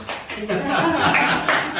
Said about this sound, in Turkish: Cihazı alkışlıyoruz abi